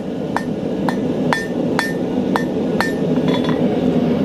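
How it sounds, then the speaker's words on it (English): A hammer strikes a hot nail point against the edge of an anvil in a blacksmith's forge. About eight bright, ringing metallic blows come at an even pace over a constant background hum. "always come to the edge of the anvil. We've seen this in a number of videos. You put a point on the nail."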